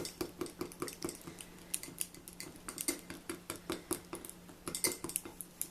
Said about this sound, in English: right now I'm just whisking it up until I make sure that that heavy honey is not still separate and weighed down to the bottom of the jar